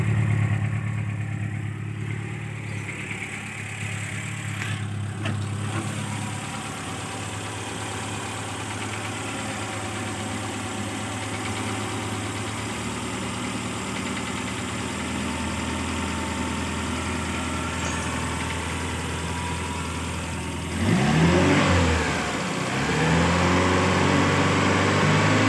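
Motorcycle engine idling steadily after a new carburetor is fitted, a continuous mid-pitched running note that holds for most of the time, then a short rev bursts in near the end before settling back.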